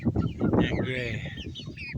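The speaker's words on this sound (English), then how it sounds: "I have 6 hens and 1 rooster." Backyard chickens, hens and a rooster kept in a chicken tractor, give close, busy clucks and a brief rising squawk over a couple of seconds.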